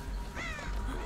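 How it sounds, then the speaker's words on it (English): Crows cawing in a video game during a chase, a single harsh call rising and falling over a steady background of game ambience. "Trying to run away from these birds."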